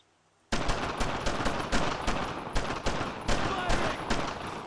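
Rapid automatic gunfire in Brothers in Arms: Road to Hill 30, a loud sustained burst of repeated shots starting abruptly after a quiet moment and rattling on steadily, with faint voices in the mix.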